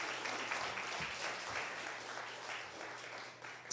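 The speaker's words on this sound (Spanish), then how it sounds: "Why don't you give the Lord a round of applause?" A church congregation applauds in praise of the Lord during a Spanish-language service, a steady, fairly quiet wash of clapping that holds for several seconds without a break.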